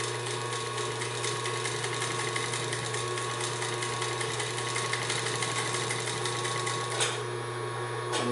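A vintage Singer 78-3 industrial walking foot sewing machine runs steadily at low speed, a close, continuous mechanical hum with rapid stitching rattle that stays even throughout, shifting slightly near the end.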